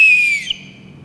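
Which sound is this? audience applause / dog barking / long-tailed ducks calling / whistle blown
whistle blown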